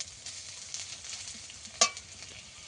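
Onions frying in oil in a pan, a soft steady sizzle with one sharp clink or scrape partway through, close and fairly quiet, with no talking.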